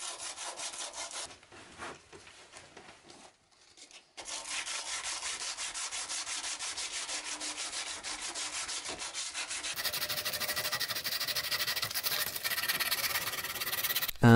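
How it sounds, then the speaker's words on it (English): Continuous rasping of 100-grit sandpaper rubbing back and forth on chiseled wood, a brief pause early on, then steady strokes growing slightly louder and brighter toward the end. "sanded my chisel work with some 100 grit"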